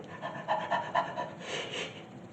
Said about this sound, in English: it's just kind of looking up at you and panting